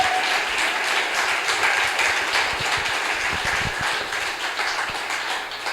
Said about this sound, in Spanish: Fuerte aplauso al Señor.